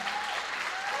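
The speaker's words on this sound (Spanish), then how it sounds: "Pero denle un fuerte aplauso al Señor." A church congregation claps in dense, sustained applause, a steady wash of many hands at even loudness with no break, filling the room throughout.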